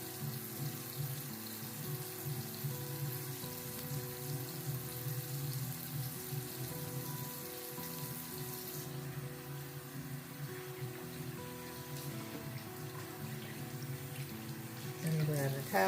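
Water runs steadily from a bathroom tap into a sink while a face is rinsed, a constant splashing hiss with small splashes near the end.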